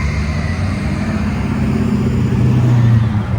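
A loud Subaru BRZ engine running close by, its rumble rising and revving toward the end.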